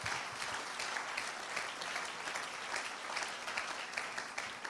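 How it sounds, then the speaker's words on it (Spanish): A church congregation applauds strongly during a sermon, a sustained, fairly distant wash of many hands clapping for several seconds without speech. "Den un aplauso fuerte a esta semilla, que es la palabra de Dios."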